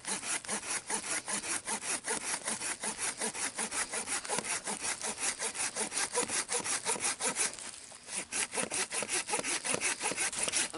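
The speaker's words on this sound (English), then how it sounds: "I had a dead limb hanging down here, and I sawed it and have a nice baton" A hand saw cuts through a dead hardwood limb in quick, rhythmic strokes, a close rasping push-pull that continues steadily with one short pause near the end.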